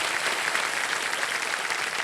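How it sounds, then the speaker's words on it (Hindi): A studio audience at a television quiz show claps in a dense, even wash of applause, steady and unbroken from start to finish with no voices above it. "तालियां बज जाएं"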